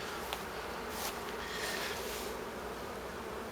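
Honeybees hum steadily from an opened hive with few bees and a drone-laying colony, a close, continuous buzz with faint passing whines and no voices.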